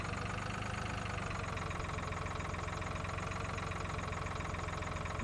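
In Farming Simulator 2013, a tractor engine idles with a steady, unchanging low drone and a faint, even chugging pulse that holds throughout.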